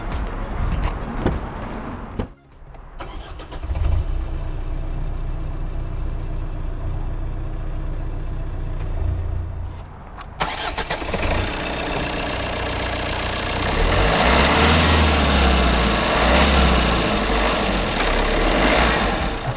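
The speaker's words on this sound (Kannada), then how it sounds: "ಈ ಗಾಡಿ ಸ್ಟಾರ್ಟ್ ಮಾಡ್ತೀನಿ, ಇಂಜಿನ್ ಎಷ್ಟು ಸ್ಮೂತ್ ನೋಡಿ ಸರ್ ನೀವು." A high-mileage Tata Nexon diesel, run nearly 192,000 km, cranks and settles into a steady low idle after a brief quiet gap. The idle shifts to a louder, brighter rumble partway through and continues without speech.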